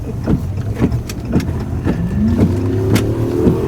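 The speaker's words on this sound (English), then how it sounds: "Mike, we're driving east on 9." Car driving east on a highway while a tornado is on the ground nearby, with a steady road and engine rumble and repeated thumps and whooshes, plus a rising whine near the end.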